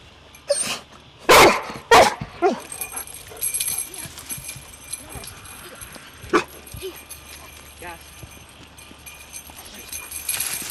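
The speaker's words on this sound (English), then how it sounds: "I've got a search and rescue dog about to rescue me" A search and rescue dog barks in sharp bursts during search training, with a person up in a tree waiting to be found; several loud barks come early, then a scattered outdoor background and a later bark.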